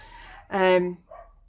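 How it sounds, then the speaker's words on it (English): A dog lets out one loud, close bark, followed by a fainter short yip, with a low background murmur. "Apologies if you can hear barking dogs in the background."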